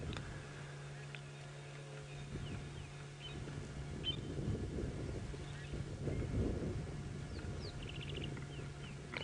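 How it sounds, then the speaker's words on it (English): Birds calling in hot African bush, scattered faint chirps and calls at a distance over a steady low breezy hum. "I can hear some birds making lots of noise"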